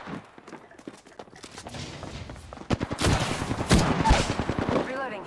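Gunfire in the video game Apex Legends: bursts of rapid automatic shots with reloading clicks, loud and close, building into heavier volleys in the second half, with no talking.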